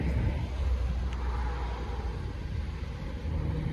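A 2017 Genesis G80 idling very quietly, a low steady engine hum with light background hiss and no talking.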